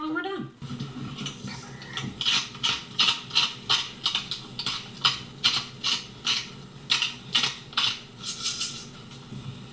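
Salt and pepper ground over a savory cornbread sage dressing, a steady run of about fifteen short, even grinding bursts close by, with kitchen sounds underneath.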